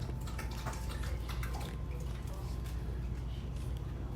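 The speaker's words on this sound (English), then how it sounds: "let me go wash my hands." Tap water runs steadily as hands are washed under it, a close continuous splashing rush with small drips and squishes throughout.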